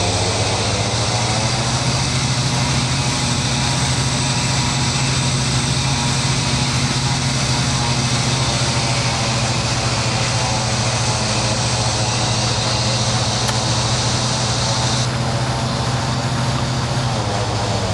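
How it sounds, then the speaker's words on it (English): The left engine of a BAe Jetstream 41 turboprop runs on its own after start, a loud, steady whine over a low hum that holds constant throughout, heard from inside the aircraft. "it sounds like the left engine has stabilized"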